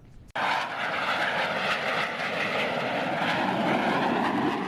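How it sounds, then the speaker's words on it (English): Lockheed C-130 Hercules "Fat Albert" turboprop transport at an air show, its propeller engines roaring loud and steady from inside the aircraft after a brief quiet start, a continuous broadband drone with no talk. "takes us up on the C-130, also known as the Fat Albert"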